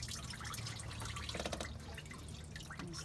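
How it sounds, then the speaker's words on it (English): Coolant water dripping and trickling from the water pump area of a 2003 Chevy Avalanche once the pump is pulled off, a steady close patter of drops with no voices. "There's a little more water coming out of it."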